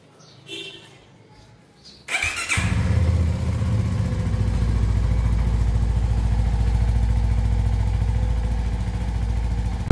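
A CF Moto SR250 motorcycle with about 900 km on it starts after a brief quiet moment, then settles into a loud, steady, close engine run that holds to the end.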